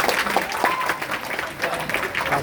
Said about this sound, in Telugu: ప్లీజ్ సార్ కోసం గట్టిగా క్లాప్ చేయండి.